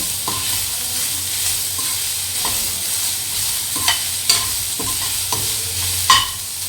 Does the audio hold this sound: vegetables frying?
yes